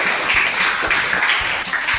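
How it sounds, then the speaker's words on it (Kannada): Schoolchildren clap loudly together during a classroom maths activity, dense continuous applause with a few sharper individual claps, close and filling the room. "ಜೋರಾಗಿ ಚಪ್ಪಾಳೆ ತಗೊಳ್ಳಿ"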